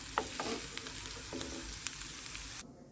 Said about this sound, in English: While my seasonings are being sauteed